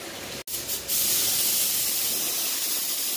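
A spray gun applies Hartwell HS 2:1 clear coat, a brief click followed by a steady, loud, close hiss of atomized spray that continues without pause and without talk.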